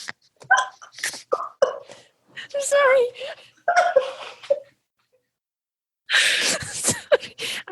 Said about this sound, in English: I just needed to sneeze.